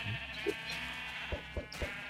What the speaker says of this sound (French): on a tellement de moutons qu'on a atteint la limite maximum